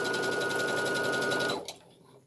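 A domestic sewing machine runs a fast, steady stitch along a straight fabric seam at a 5/8 inch allowance, then stops abruptly near a corner, close and clear with no talking.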